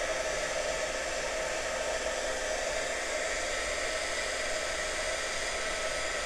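A heat gun blows a steady, even rush of hot air over a fresh resin pour, a constant broadband hiss that holds at the same level throughout with no talking.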